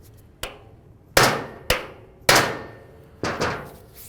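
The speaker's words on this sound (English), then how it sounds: "just take a hammer and a punch" Hammer striking a punch to drive a bracket area down during camshaft position sensor replacement on a 2009-2020 Dodge Journey: five sharp metallic blows at irregular spacing, close and loud, with short ringing decays and no talk.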